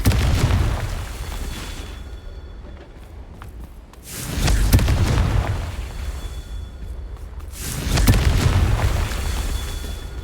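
Fire-blast spell explosions from the Hogwarts Legacy video game boom out in two or three heavy bursts a few seconds apart, each with a low rumbling tail, loud and close.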